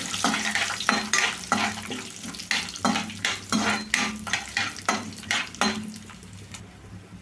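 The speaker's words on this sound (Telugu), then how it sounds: "వీటిలో అన్నిటిని కలర్ చేంజ్ అయ్యేదాకా వేయించుకోవాలండి." Cumin seeds, cashews and split dal being fried in oil in a pan, a close, repeated scraping of a spoon stirring in a steady rhythm over a soft sizzle, with no talking.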